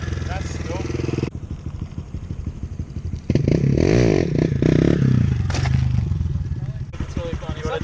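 A motorcycle engine surges and revs loudly as the rider pulls a wheelie beside a cliff edge, with a sustained roar in the middle and people talking over it throughout.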